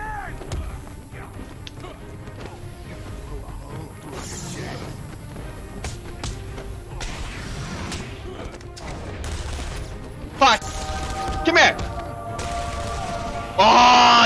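A thug fires his gun in Batman: Arkham Asylum, with sharp shots repeating through dense game effects and a few louder impacts near the end.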